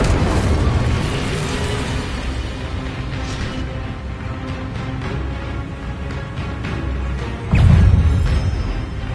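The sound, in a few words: Incendio fire spell, from video game Hogwarts Legacy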